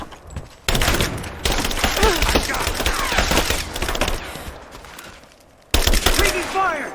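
Heavy gunfire in the action game Rise of the Tomb Raider, with loud, dense bursts of rapid shots and a brief lull before another sharp volley, while voices can be heard underneath.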